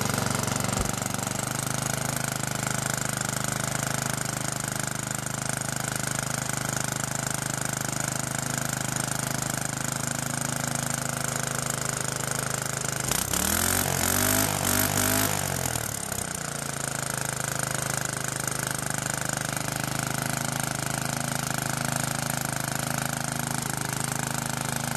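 A Baja mini bike engine with a custom exhaust pipe runs steadily with a muffled, buzzing drone close by, briefly revving louder with a rising and falling pitch partway through before settling back to idle.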